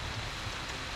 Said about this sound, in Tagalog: Ito nga at bumuhos ang ulan